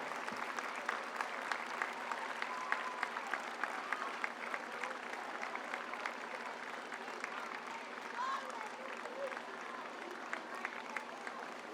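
Steady crowd applause at an open-house event of a volunteer fire brigade in Mirano, a continuous wash of many hands clapping at even loudness throughout, with voices faintly mixed in.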